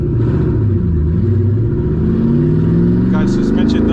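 A straight piped 2007 Mustang GT driving, its loud exhaust droning and shifting pitch up close, with a brief crackle near the end; a voice talks over the engine.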